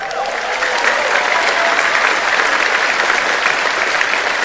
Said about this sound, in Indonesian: saya pengen minta tepuk tangan yang paling meriah kepada dua ketua umum kita